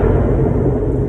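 A 2015 Chrysler 200S with a 3.6 V6 and straight-pipe exhaust, held in second gear while revving: a loud, steady, rumbling low engine drone through the whole short stretch, with no voices over it.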